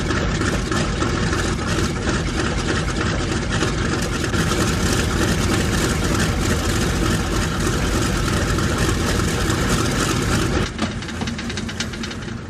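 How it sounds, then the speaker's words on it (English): Radial piston engines of the B-29 bomber Kee Bird, long dormant in a frozen, remote setting, roar and idle loudly with a dense, rough, continuous rumble and knocking throughout, easing slightly near the end; no voices. "sits at the flight engineer's console to start all 4 engines."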